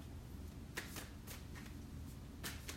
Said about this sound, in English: I have to shuffle them.